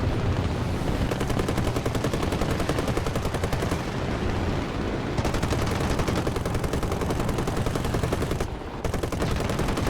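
Rapid machine gun fire from a P-26 Peashooter in War Thunder, dense continuous bursts with a brief pause near the end, loud and close over engine drone.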